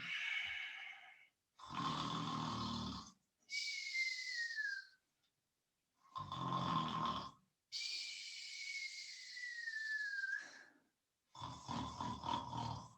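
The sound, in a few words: people imitating loud snoring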